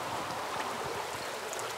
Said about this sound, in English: This is the Isuzugawa River. Its famously clear waters flow down from the surrounding mountains.